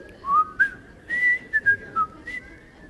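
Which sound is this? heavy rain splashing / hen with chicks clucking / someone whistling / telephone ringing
someone whistling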